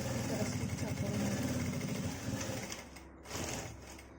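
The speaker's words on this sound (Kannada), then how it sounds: "ಚೆನ್ನಾಗಿ ಫೋಲ್ಡ್ ಮಾಡ್ಕೊಂಡು ಸ್ಟಿಚ್ ಹಾಕ್ಕೊಳ್ಳಿ." Sewing machine stitching a folded old shirt into a bag: a steady, fast mechanical whirring hum that continues for several seconds and briefly dips near the end before resuming.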